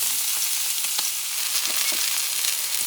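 Mahi mahi fillet frying in extra virgin olive oil for blackened fish: a loud, close, steady sizzle with crackling pops throughout and no voices.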